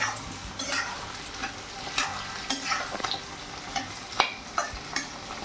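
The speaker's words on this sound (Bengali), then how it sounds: "একটু নাড়াচাড়া করে নিই। এরকম লঙ্কাগুলো দিয়ে দিচ্ছি।" Green chillies sizzle in a pan with peppers for chilli chicken while a spoon stirs them. Repeated sharp scraping strokes come at an irregular rhythm over a low, constant fry, heard up close with no talking.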